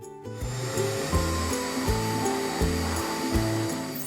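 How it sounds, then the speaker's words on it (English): A household vacuum cleaner runs with a steady, loud whooshing drone that starts abruptly and continues without pause, with a soft repeating musical pattern underneath. "I'll vacuum."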